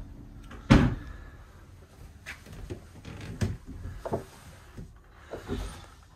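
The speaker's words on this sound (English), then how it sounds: "The electrical distribution panel here and the watertight door to the aft cabin." A watertight door between the main cabin and aft cabin aboard a Falmouth pilot cutter, a sharp close thump as it opens, followed by scattered knocks and creaks of the wooden boat.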